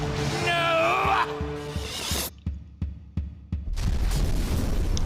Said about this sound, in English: And then there was a giant explosion.